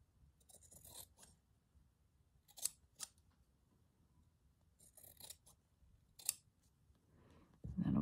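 Scissors trim fabric for a boro slow-stitch project in a series of crisp, close snips, quiet and spaced a second or two apart against a hushed background.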